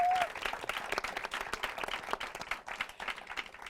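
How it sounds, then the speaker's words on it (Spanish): Audience applause at a university talk event, a steady wash of many hands clapping for several seconds, dense and sustained with uneven swells. "otro gran aplauso"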